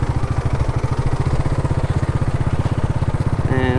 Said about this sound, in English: Lots of big bikes,